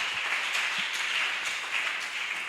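A church congregation at a Sunday service applauds steadily and evenly, a dense, continuous patter of many hands clapping throughout, fairly close and with no talk over it.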